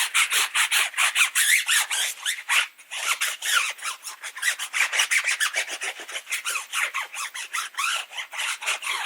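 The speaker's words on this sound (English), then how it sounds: "We might have to scrub one more time." A brush scrubs the barrel of a car wheel coated in Meguiar's non-acid wheel cleaner, a close, rhythmic series of rapid bristle strokes with no talking.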